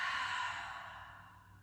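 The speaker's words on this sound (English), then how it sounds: "Exhale out through the mouth." A long, steady exhale out through the mouth during an easy yoga session, close and breathy, slowly fading over a second and a half with no talk.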